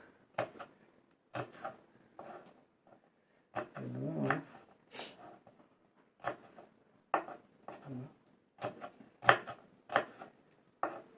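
Knife chopping onion on a cutting board for chicken sotanghon soup, a series of sharp close chops in irregular bursts with short pauses, no talk.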